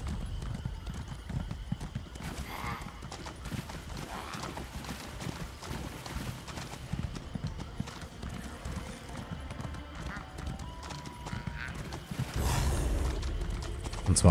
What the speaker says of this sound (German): Dann werden wir dann mal zu Pferde hinreisen.